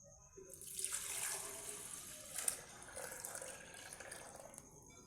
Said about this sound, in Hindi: उसके अंदर मैं ये दूध ऐड कर दूँगी